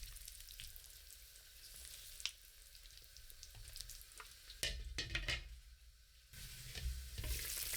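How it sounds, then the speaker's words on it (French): Caramelized pork ribs bubble over medium heat in a covered pot, giving a soft, continuous sizzle and crackle with a few brief clatters of stirring or lid contact partway through. "Je mets un couvercle et je laisse mijoter à feu moyen pendant 30 minutes."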